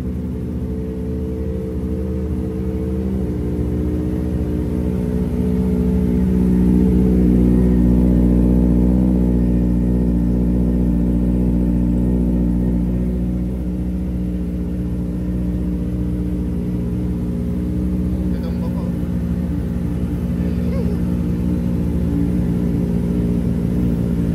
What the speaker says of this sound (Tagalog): Humihina na yung tunog ng ZX4R.